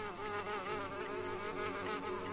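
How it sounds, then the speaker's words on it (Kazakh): A small tropical fly buzzes steadily as it escapes from a suitcase in an animated scene, a continuous close whine with a wavering pitch and no other sound. "одан кішкентай шыбын қалай ұшып кеткенін байқады"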